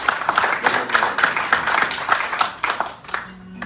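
A crowd applauds steadily, dense clapping at moderate volume that tapers off near the end.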